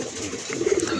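A large pigeon offered for sale gives a brief, low coo nearby, a single soft throaty murmur rising toward the end with no clear voices.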